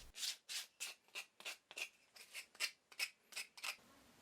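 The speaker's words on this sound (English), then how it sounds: "I sand off any rough edges on the hypotenuse of the wedges so that they can move freely against each other." Sanding the rough edges of small wooden wedges by hand, about a dozen close rhythmic rasping strokes back and forth, evenly spaced and alone in a quiet room.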